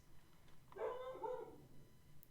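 A dog barks and yelps somewhere in the background of a quiet indoor room, one short, faint burst of barking.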